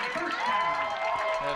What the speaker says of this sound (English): this crowd for Wapak starting to get into it